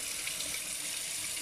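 Water runs steadily from a leaking kitchen sink faucet, a close, continuous splashing trickle pooling on the stone countertop around the tap arm, with no voices.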